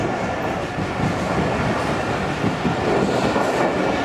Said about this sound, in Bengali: এটা কি রাজশাহীর ট্রেন?